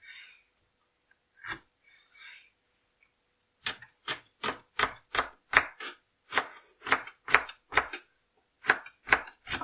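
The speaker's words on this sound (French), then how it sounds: "Ça t'amuse pas de me voir couper des carottes?" Carrots being cut with a ceramic knife on a board, a few scattered cuts first, then a fast, even run of crisp chops, close and clear with no talk.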